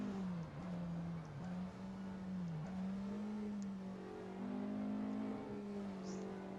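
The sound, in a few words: Porsche Le Mans race car engine, from a racing video game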